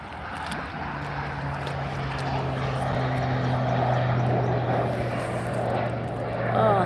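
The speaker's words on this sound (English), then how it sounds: "It's a really low plane." A low-flying propeller airplane passes just above nearby trees outdoors, its engine drone building steadily and loudly over several seconds, with a person talking briefly at the start.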